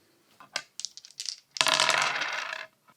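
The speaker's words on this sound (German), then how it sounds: "Würfelt mit 3 Würfeln." Three dice rolled for the Adventure Island board game: a few light clicks as they are picked up, then a loud clattering tumble lasting about a second before settling.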